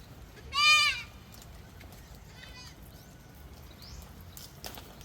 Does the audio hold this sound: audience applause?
no